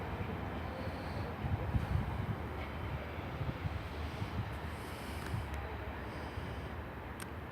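A Class 185 diesel multiple unit pulls out of Huddersfield station, a steady low rumble with broadband noise that swells slightly around the second second and then holds without pause.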